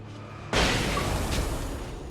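A flashbang goes off in the Xbox 360 video game Alan Wake with a sudden loud blast. A broad roaring wash follows and slowly fades.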